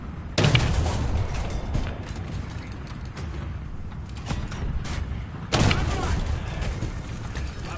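Gunfire and heavy impact bursts in War Thunder tank combat, with loud booming hits at the start and again near the end over a continuous rumbling, clanking background.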